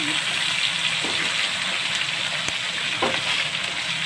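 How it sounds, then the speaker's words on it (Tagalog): Cabbage tossed into a hot pan with browned meat, crackling in a loud, dense sizzle with watery hiss and stirring scrapes, continuous for several seconds. "Lagay na natin yung repolyo."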